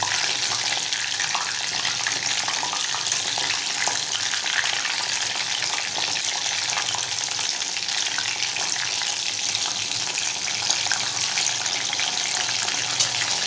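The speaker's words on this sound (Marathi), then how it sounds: "आता दुसरी बाजू आपण छान फ्राय करून घेऊया।" Mushroom lollipops deep frying in hot oil over a low flame, a loud, steady, dense sizzle with fine crackling throughout, close and continuous with no talking.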